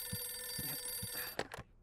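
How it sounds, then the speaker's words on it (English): A telephone rings indoors, a steady high electronic trill with short low thumps underneath, faint and ending abruptly, with no talk. "I'll get the phone!"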